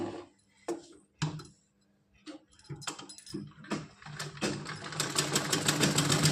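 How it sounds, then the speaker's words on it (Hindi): A sewing machine stitches a doll's frock for a Laddu Gopal dress in quick intermittent bursts, building into a continuous run of rapid stitching toward the end. "इस पे हम सिलाई लगा देंगे"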